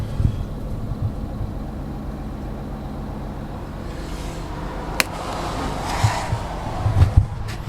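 A vehicle engine, warmed by a block heater for about three hours, idles with a steady low rumble throughout, broken by a few brief clicks and knocks near the end.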